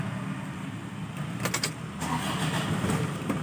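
A 2004 Toyota Kijang Innova G diesel with manual gearbox cranks and fires up, the starter's brief clatter giving way to a steady, close, rumbling diesel idle.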